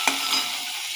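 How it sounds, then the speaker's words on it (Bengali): Bitter gourd stirred and fried with potato in a hot pan gives a close, steady sizzle with a brief scrape of the spatula at the start. "এরপর দেবো উচ্ছে, উচ্ছেটা দিয়ে নাড়ব।"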